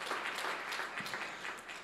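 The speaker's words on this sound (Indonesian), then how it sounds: "Yang mau beri tepuk tangan yang meriah bagi Tuhan Yesus." A church congregation gives faint, distant applause in a steady, even patter of many hands, with no voices over it.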